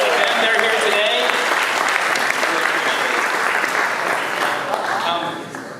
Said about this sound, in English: a round of applause to the father and mother of the bride and groom